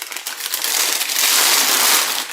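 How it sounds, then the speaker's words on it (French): Kraft paper bag crinkling and crushing up close, a continuous dry rustle that builds in loudness and holds steady for a couple of seconds, with no speech. "Excusez-moi pour le bruit du papier craft."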